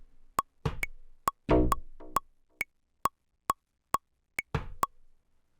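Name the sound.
sampled tubular bass preset with delay on SP-404mk2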